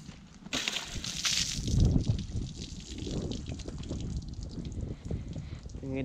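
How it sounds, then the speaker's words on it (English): Water splashes and pours over a car during a driveway wash, a loud gushing burst near the start that settles into a continuous wet spattering and dripping. "put some water on top of the car, just splash the car"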